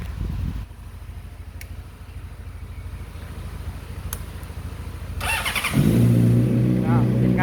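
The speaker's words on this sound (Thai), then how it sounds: "เดี๋ยวต้องสตาร์ทคลิก125ก่อนนะครับ" A Honda Click 125 motorcycle engine cranks and catches near the end, settling into a loud steady idle after a stretch of quieter background noise, with someone speaking over it.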